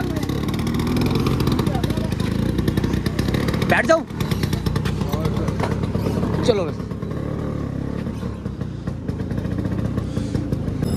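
A scooter's engine runs steadily underneath while someone talks briefly, with a sharp clatter partway through and the motor drone continuing close and loud to the end.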